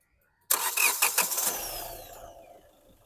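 A 2018 Hyundai Verna SX (O) engine cranks briefly and catches, starting abruptly after a moment of silence, then a loud, close rev that settles and fades toward idle, with no talk.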